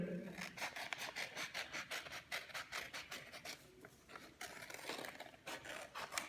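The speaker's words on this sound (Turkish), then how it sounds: "Ve bunu ikiye katlayarak kesiyorum." Scissors snip through folded paper up close, a quiet, rapid series of rhythmic cuts and rasps, with no voices heard.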